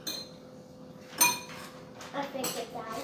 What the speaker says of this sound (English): I'm gonna fry it in the frying pan.